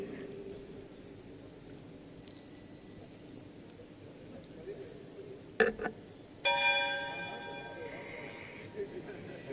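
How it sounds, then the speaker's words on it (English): At a stock exchange listing ceremony, a ceremonial bell rings out once with a bright, ringing tone that slowly fades, following a sharp knock, over quiet crowd murmur. "You all can ring this bell multiple times."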